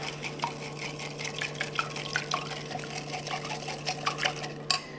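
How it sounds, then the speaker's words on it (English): A spoon briskly stirring a sugary dressing for a five bean salad in a bowl, rapid close-up clicking and swishing with a wet, liquid edge, steady and unbroken. "give that a really good stir"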